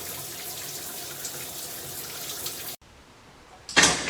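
Water hisses and splashes steadily for a few seconds as it is poured into a hot oven for baking bread, then cuts off, followed by a sharp loud burst of sizzling steam.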